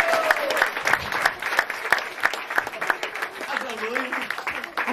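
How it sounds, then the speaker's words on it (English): An audience bursts into applause for a young performer at a magic show, sustained clapping from a crowd with a voice talking over it. "And a thunderous round of applause for Madison!"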